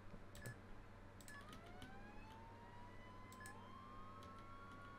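A faint wailing emergency siren from a Roblox fire vehicle rising and falling several times, quiet and distant-sounding over a steady low engine drone, with a few sharp clicks.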